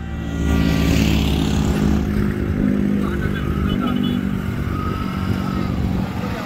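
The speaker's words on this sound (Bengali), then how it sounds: "খালি বাইক যায়।" Motorcycles roll past on a crowded street at a busy evening junction, a continuous close engine drone and clatter with no pauses, against a background of general street noise.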